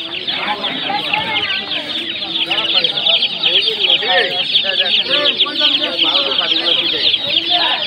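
Quail birds for sale at a market, sold in pairs, chirping and clucking in a dense, continuous chorus of many overlapping calls close by, with a busy market murmur underneath.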